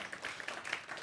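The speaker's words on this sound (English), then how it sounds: "was kind of a golf clap" Light, sparse golf-style clapping from a small audience, soft scattered claps over about a second.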